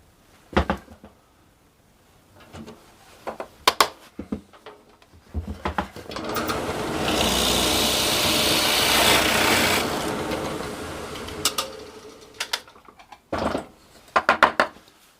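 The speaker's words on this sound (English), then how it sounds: "We've got one of the lanterns to be drilled." A drill press spins up and bores into a metal lantern ornament blank for several seconds, a rising grinding whir framed by clunks of clamping and handling.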